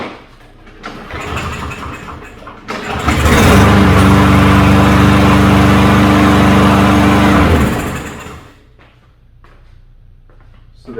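A walk-behind lawn mower engine is pulled into life, first a few quiet rattles, then a loud, steady near roar with a strong low hum that holds for several seconds before cutting back to a faint idle.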